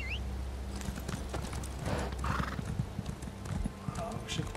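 A horse in the Elder Scrolls Online video game gallops with steady clip-clop hoofbeats and a whinny, mixed with game sounds and a voice talking over it.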